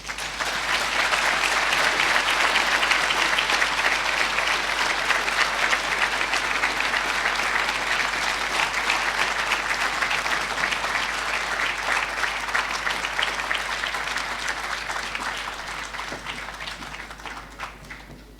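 Sustained audience applause closing the GraceKennedy Foundation Annual Lecture 2015, a thick, even roar of many clapping hands that holds steady for eighteen seconds before easing off near the end.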